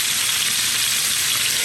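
Rib roast steaks frying in a pan after a splash of water, a steady loud hiss and sizzle with no pauses.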